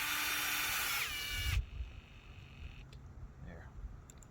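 A power drill drives screws into reused old holes on a track, whining loudly and steadily for about a second and a half before cutting off, followed by quieter handling noises.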